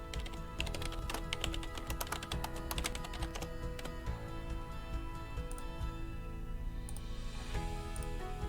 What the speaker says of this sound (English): So let's type one right now.